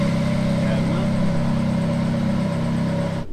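A car idles loudly with the clutch pedal in and in gear, a faulty clutch that is not fully disengaging stirring up a constant droning, whirring engine noise. Someone talks over it, and the drone cuts off abruptly at the end.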